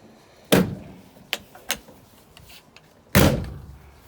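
Door of a 1967 Ford Ranch Wagon being worked: a loud, sharp clunk, a few lighter clicks and knocks, then a second heavy clunk, close and clear with no talking.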